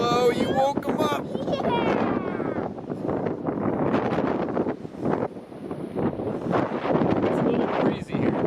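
Gusts of wind buffet the microphone on a California beach, rising and falling in loud rumbling bursts while people talk in the opening seconds.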